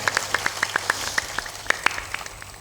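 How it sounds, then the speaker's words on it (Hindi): Scattered hand claps from a satsang audience, about a dozen sharp separate claps in an uneven rhythm, fairly close and moderately loud over a low steady hum, with no voices. "तालियां जोर से बजाया करो"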